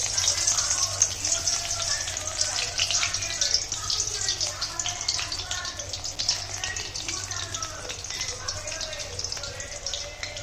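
Pieces of a homemade snack sizzle steadily in hot oil, a dense crackling hiss that holds for the whole stretch at moderate loudness, with faint kitchen hum beneath and no talking.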